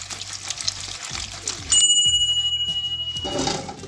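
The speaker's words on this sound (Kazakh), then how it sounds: "Жемістерді бір рет жуып аламыз" Black grapes are rinsed under running water, with a steady splashing pour and trickle throughout, a brief ringing metallic tone near the middle, and bowl clatter, all close by.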